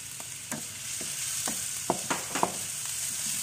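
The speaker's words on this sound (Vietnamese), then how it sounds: "Giờ mình cho tỏi vô nha các bạn, mình phi tỏi lên. Rồi cho củ hành tím vô luôn nha các bạn." Garlic and shallots fry in hot oil with a steady bright sizzle, while a utensil scrapes and taps the pan at irregular intervals; there is no talk.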